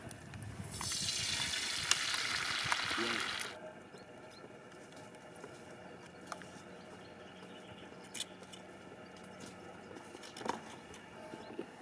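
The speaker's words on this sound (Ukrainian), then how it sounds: "І обсмажую перепилень." Quails frying in a pan outdoors, a loud dense hiss of sizzling fat for the first few seconds that then drops to a soft crackle, with faint outdoor ambience.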